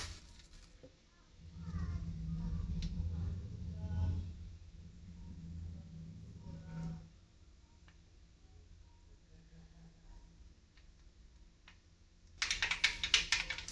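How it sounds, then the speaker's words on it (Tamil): Mustard seeds splutter in hot oil for a homemade fish curry, giving faint, scattered pops and ticks over a low background murmur, with a brighter burst of crackling near the end. "கடுகு பொரிச்சிட்டு இருக்கு."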